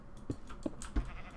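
Sheep bleating in the Minecraft video game, three short, fairly close bleats spaced evenly over a second, alone with no talk.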